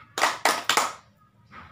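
A group does the rhythmic P2K clap at a training session, three sharp claps in quick succession followed by a softer fourth, close and alone.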